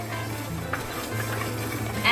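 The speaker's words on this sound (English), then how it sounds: "Keep frying till they are golden brown" Groundnuts, poppy seeds and desiccated coconut being dry fried and stirred in a pan for eggplant biryani: soft continuous scraping and rustling with a faint sizzle, close and low in level.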